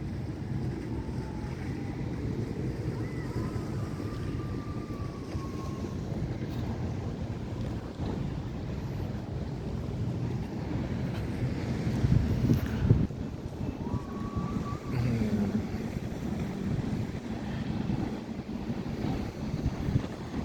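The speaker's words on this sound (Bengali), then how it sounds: "কোস্টগার্ডের একটা স্পিডবোট দেখতে পাচ্ছি প্রচণ্ড গতিতে ছুটে যাচ্ছে" A coast guard speedboat speeds along the River Thames near Canary Wharf, its engine a low, steady rumble mixed with heavy wind buffeting and water wash, swelling briefly louder partway through.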